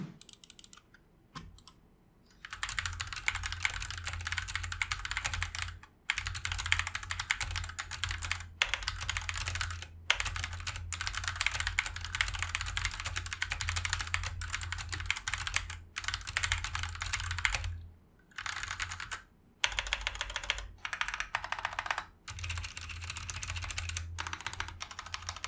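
Fingers type rapidly on a compact gaming keyboard, a dense run of close, crisp key clacks broken by a few short pauses, with no talking.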